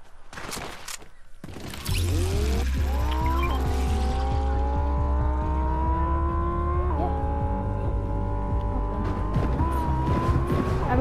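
A Lamborghini in the video game Fortnite starts up after a few clicks, then holds a loud, close engine hum, shifts pitch mid-way and keeps revving steadily to the end, with no talking.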